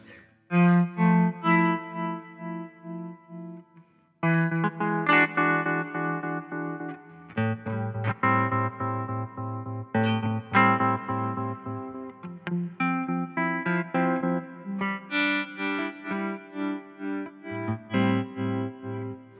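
Electric guitar chords played through a ZVex Super Seek Trem pedal, the volume throbbing rhythmically in quick even waves, loud and alone with no voices.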